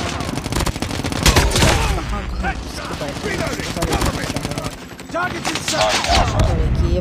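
Dense machine gun fire from the mobile shooter Call of Duty Mobile, rapid continuous bursts with overlapping shots and clatter, loud and close almost throughout, with a voice talking under the gunfire.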